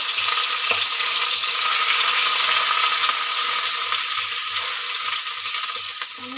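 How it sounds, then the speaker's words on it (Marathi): Garlic ginger paste frying in a pan for a spicy green bean dish, giving a steady, close, continuous sizzle with a faint crackle throughout and no voices. "लसूण अद्रकची पेस्ट गोल्डन ब्राऊन होईपर्यंत चांगली छान तळून द्यायची"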